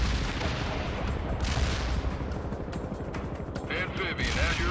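Gunfire and artillery blasts in the real-time strategy game World in Conflict, a dense, steady battle din of shots and booms that runs throughout, with voices calling out over it.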